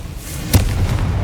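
A single sharp blast from the Confringo fire spell in Hogwarts Legacy, a short broadband crack with a low thump, followed by fainter rumbling.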